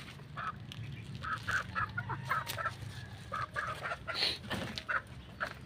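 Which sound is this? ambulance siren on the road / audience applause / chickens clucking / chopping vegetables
chickens clucking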